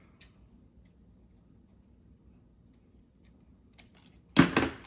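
Scissors snip paper while making a small handmade cut-out notebook, a faint click early on, then one loud close burst of cutting near the end after near silence.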